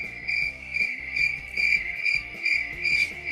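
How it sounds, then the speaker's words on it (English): A crickets-chirping sound effect plays as loud, continuous, pulsing high chirps in a steady rhythm, with a faint low backing sound underneath. "I'm going to give you the crickets."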